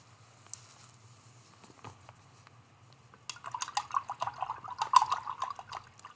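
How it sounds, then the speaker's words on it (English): A paintbrush swished and rinsed in a water container while painting an art quilt, giving a burst of close, splashy dripping and patter that starts midway and continues unevenly to the end after quieter handling. "I'm going to rinse out this brush"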